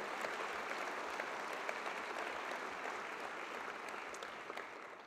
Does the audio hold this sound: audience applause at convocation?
yes